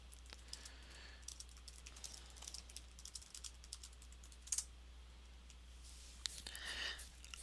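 Computer keyboard typing during a Game of Thrones Second Edition card game tutorial, with scattered soft key clicks and a couple of sharper taps, quiet and close, no speech.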